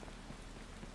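Heavy rain pours steadily in the Watch Dogs video game, a dense, even hiss of falling water that stays faint and unbroken for a brief moment.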